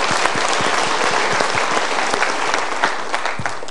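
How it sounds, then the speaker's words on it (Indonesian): Studio audience of the Mario Teguh Golden Ways talk show claps warmly. Continuous, dense applause from many hands sounds fairly loud and even throughout, with no speech over it. "Kita berikan tepuk tangan."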